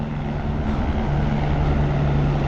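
A helicopter's steady, droning engine roar with a constant low hum, passing overhead at a distance in a Himalayan valley.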